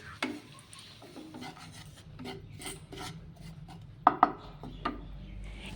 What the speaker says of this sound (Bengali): এখন বেসনটাকে ভেজে নিচ্ছি যাতে পুড়ে না যায়